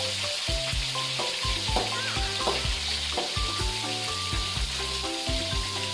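Steady oil sizzle and crackle of snakehead fish frying in a pan, continuous and close, with rhythmic low thumps and scraping from utensils throughout.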